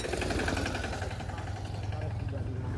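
A mini tractor's small engine chugs steadily close by, a throbbing mechanical drone running throughout with no pauses.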